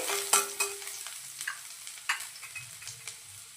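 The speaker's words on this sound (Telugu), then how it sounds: "సన్నగా తరిగిన వెల్లుల్లి కొంచెం పచ్చివాసన పోయేంత వరకు అయితే ఫ్రై చేసి చూసుకోవాలి" Finely chopped garlic and ginger fry in a pan for a sweet corn soup, giving a soft steady sizzle broken by a few sharp scraping stirs of a spatula, close and fairly quiet with no voices.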